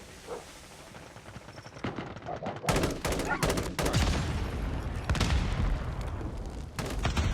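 Call of Duty ranked multiplayer gunfire: rapid automatic bursts crack out in clusters, loud and close, with quieter distant shots between them and a faint voice in the background.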